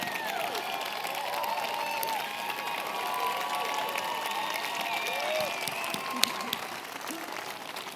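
A crowd applauds at a climate change event with President Obama and Leonardo DiCaprio, dense continuous clapping with some scattered cheers, steady and moderately loud throughout and slightly thinning toward the end.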